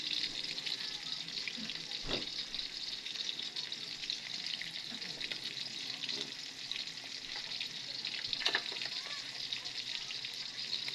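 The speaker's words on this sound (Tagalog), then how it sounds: "Guys, piniprito na muna yung tawag dito, daing." Dried fish (daing) frying in a pan, a steady bright hiss of oil sizzling throughout with a few soft clinks of a utensil against the pan.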